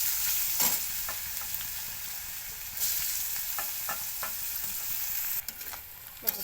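Onion sizzling and frying in hot oil with cumin seeds in a pan, a steady close crackle with a few sharper stirring clicks, no talk.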